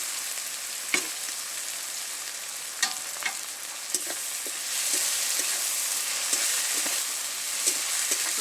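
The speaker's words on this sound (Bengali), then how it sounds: "মশলাটা নেড়েচেড়ে একটু কষে নেব" Spices with bay leaves and slit green chilies fry in a pan under a constant close sizzle, while a spatula stirs with repeated short scrapes and taps; the hiss swells louder midway.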